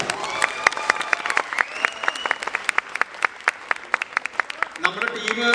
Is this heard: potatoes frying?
no